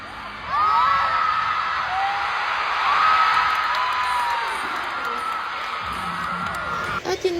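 A large crowd shouts, screams and cheers continuously at the Star Magic All Star Games 2024 volleyball match, a loud sustained roar with rising whoops.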